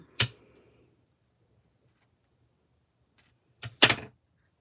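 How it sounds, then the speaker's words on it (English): Two sharp hard knocks of scissors slammed on a desk, one early and a louder double thud near the end, with silence between. "Sorry for slamming my scissors down on the desk."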